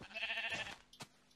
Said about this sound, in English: Got a sheep.